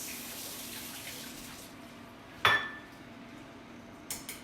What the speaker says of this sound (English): So you give them a little bit of rinse.